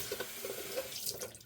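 Warm tap water runs steadily into a bathroom sink for face washing, a soft, quiet splashing flow with small drips and no voices.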